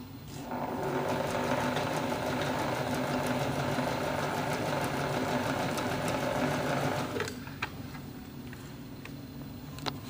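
Sewing machine stitching along the fabric edges of a bag, a fast steady mechanical whirr running for several seconds before stopping, then a few faint clicks.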